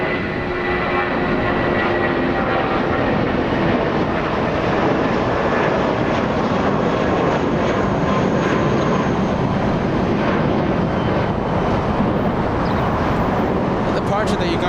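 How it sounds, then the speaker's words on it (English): A United Airlines A320 bound for San Francisco departs Los Angeles International, its loud, continuous engine roar filling the whole stretch close by while a voice talks over it. "The departure that you guys heard, United Airlines 2611 flight to San Francisco, an A320."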